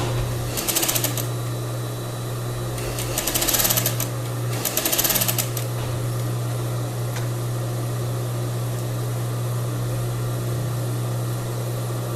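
A sewing machine stitches a seam on a crepe bubble blouse in three short bursts of rapid needle chatter early on. Behind it sits a steady low electrical hum, and the rest is quiet room tone.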